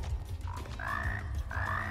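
Several croaks from frog-like monsters in the shooter Immortal Redneck rise over a constant low drone, starting faintly and coming back louder in two stretched calls near the end.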